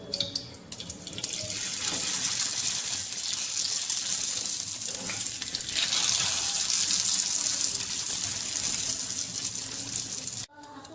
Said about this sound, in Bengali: এবার আমি তোমাদেরকে একটা ভেজে দেখিয়ে দেব ঠিক কেমন তৈরি হয়।